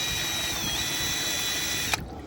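A power drill fitted with a scrub brush attachment whirs steadily at close range with a constant high whine, then cuts off abruptly near the end.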